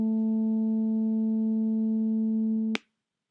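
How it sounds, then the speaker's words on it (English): A steady pure sine-wave test tone holds one pitch, loud and unbroken for nearly three seconds before cutting off abruptly. "Signal number 2 is just a sine wave."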